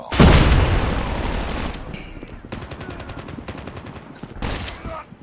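Call of Duty Mobile gunfire: a loud opening burst of rapid automatic fire, then a few shorter volleys of shots, close and harsh, with a final burst near the end.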